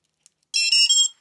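A short, high-pitched electronic beep, bright and close, lasting about half a second after a tiny click.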